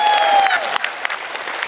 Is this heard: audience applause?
yes